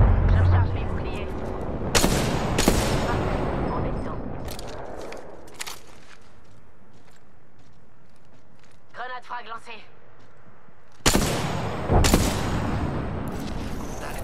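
Gunfire from the battle royale video game Apex Legends, with several sharp loud bursts and booming shots spread through a stretch of game action, a quieter lull in the middle, and a voice talking over it.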